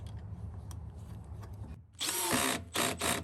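A power socket driver with a 13mm socket fastens a bracket on the fuel tank of an Avant 528 loader, giving a loud whirring burst that stops and starts again after a quiet low hum.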